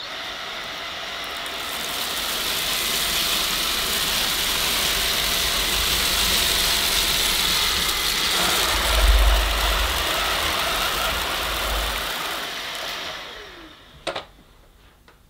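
A Bosch Unlimited Serie 6 Pro Animal cordless vacuum cleans a floor on its regular setting, a steady close whirring motor drone that shuts down near the end, followed by a brief click and a short spoken word.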